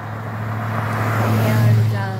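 Steady traffic roar from an interstate about a quarter mile away, a continuous rushing wash of passing cars that swells slightly midway, heard at moderate level.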